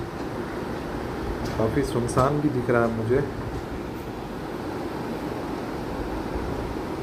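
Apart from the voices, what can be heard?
Saurashtra Mail express train moving at speed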